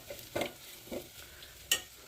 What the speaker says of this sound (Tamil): இப்போ இந்த கரைச்சி வச்சுருக்க தக்காளி புளி இதெல்லாம் எடுத்து இதில் ஊற்றணும்.